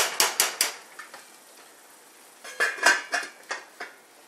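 Metal lid and utensil clatter over a pot of homemade Italian spaghetti sauce set to simmer on low: a quick run of sharp clanks, a pause, then another cluster of ringing knocks, close and fairly loud, no voices.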